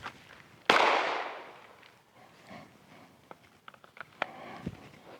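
Gunfire during shooting training: one sharp, loud report rings out near the start, followed by scattered faint clicks and small knocks in a quiet outdoor space.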